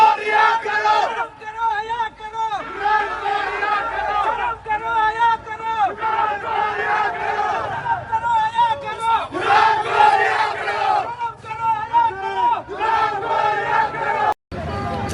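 A large crowd at a political protest in Quetta chants slogans in unison: loud, rhythmic, repeated shouted phrases with overlapping voices that continue almost without pause, ending in a brief dropout.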